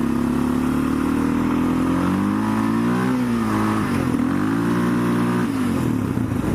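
A four-wheeler quad bike's engine revs loudly and close as the clutch is let out, its pitch rising, dipping and climbing again through gear changes, steady and continuous with no talk.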